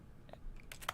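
Keyboard-style clicks in The Stanley Parable come as a few faint, close taps clustered near the end, one sharper click standing out over a quiet background.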